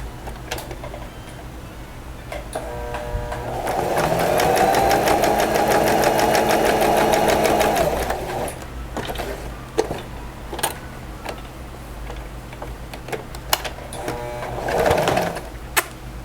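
A sewing machine runs a topstitch seam with a turn for a wall organizer panel, one steady loud stretch of rapid stitching in the middle, with quieter handling noise and a short burst near the end.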